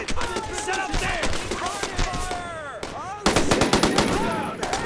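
Sustained machine gun fire in a Brothers in Arms: Road to Hill 30 World War II battle, rapid bursts rattling almost continuously and growing louder near the end, with shouted voices mixed into the gunfire.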